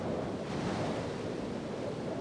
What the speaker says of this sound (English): Waves traveling on top of the surge hammer away at structures built on the shoreline.